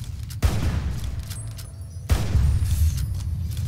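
A gunshot in Fallout: New Vegas, fired at a dog: two sharp, loud booming reports about two seconds apart, each trailing into a rumbling echo.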